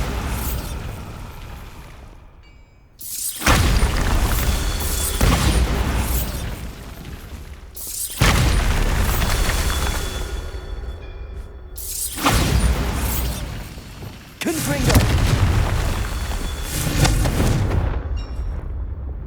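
Bombarda explosion spells in Hogwarts Legacy, four loud booming blasts spaced a few seconds apart, each with a long crumbling, rumbling decay and debris clatter, no talk.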